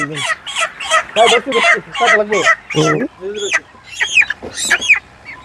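Colour bird chickens about four weeks old cluck and squawk loudly in a rapid series of short, agitated calls while being handled for weighing.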